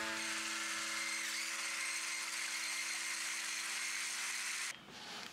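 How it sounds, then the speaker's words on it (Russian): An egg is whisked with salt and sugar for shortcrust dough with what sounds like an electric mixer, a steady high buzzing whir that cuts off abruptly near the end. "яйцо, сахар, соль соединить, взбить"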